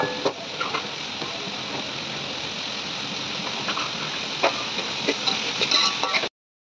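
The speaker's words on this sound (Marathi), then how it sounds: "हा कांदा बटरमध्ये पूर्ण लाल होईपर्यंत आपल्याला परतून घ्यायचा आहे" Onion frying in butter gives a steady loud sizzle with occasional clicks and stirring taps, close to the pan, before stopping abruptly; no talking.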